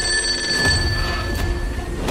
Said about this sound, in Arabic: الهاتف القديم كان يرن بلا توقف